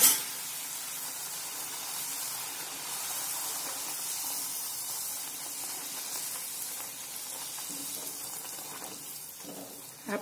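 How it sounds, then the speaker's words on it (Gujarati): Puri frying in hot oil, a steady, close hiss and sizzle of bubbling oil that continues evenly throughout, with a small clatter at the very start and end. "તો હવે આપણે આ પૂરીને તળી લઈશું"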